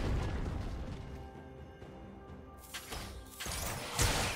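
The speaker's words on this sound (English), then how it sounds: "Red team's turret has been destroyed." A turret is destroyed in League of Legends with a loud crumbling crash and booming impacts, followed by bright bursts and clattering effects amid game noise.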